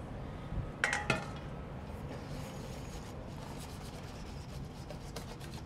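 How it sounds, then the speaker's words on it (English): Canelé batter is gently stirred with a whisk in a bowl, giving soft scraping and rubbing with a few light clinks of metal against the bowl early on, then a quieter continuous swish. "I'm stirring to combine, not to incorporate air, so I don't want to be too vigorous with the whisking."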